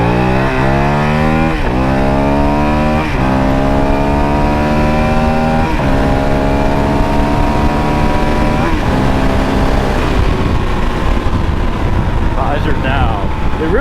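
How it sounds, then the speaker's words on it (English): A 2022 Honda CRF450RL motorcycle engine revs loud and close, climbing in pitch through several gear shifts with brief dips between them. Steady wind noise runs underneath throughout. "the motor sound coming out of here is real nice"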